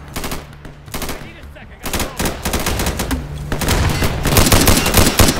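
Gunfire in the multiplayer shooter game Insurgency, loud rapid automatic bursts that grow denser and nearly continuous toward the end, with no clear speech over the shooting.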